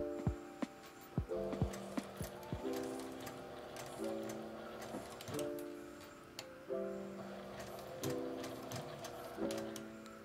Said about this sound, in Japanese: このように3針ずつ動かしながら縫うとカーブがきれいに縫えます。